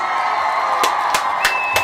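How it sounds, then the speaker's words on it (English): An audience gives a birthday round of applause mixed with cheering and whoops, with a few sharp, loud bursts standing out over a steady crowd roar. "we want to also give Gina a round of applause"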